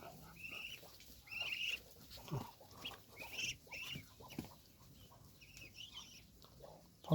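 Ducks being fed make soft, scattered quacks and clucking calls, repeated irregularly over several seconds at moderate distance, faint against low outdoor background noise.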